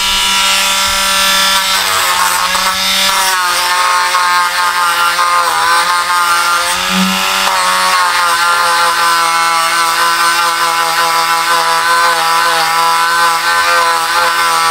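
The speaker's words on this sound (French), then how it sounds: "Moi là j'arrête parce que de toute façon je sais bien que là il n'y a plus de quoi poncer" A power sander at speed 2 working over a cardboard box with metal decorative hinges, running as a loud, steady whine with a slight dip partway through, continuous with no talking.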